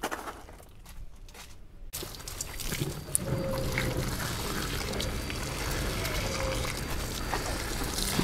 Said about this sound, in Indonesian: Kita siram pakai air seperti biasa